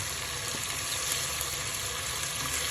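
Ginger garlic paste frying in a pan for a matar pulao gives a steady, broadband sizzle that holds evenly close by throughout, with no voices over it.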